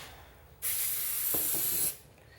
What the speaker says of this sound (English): I'm going to give her another spray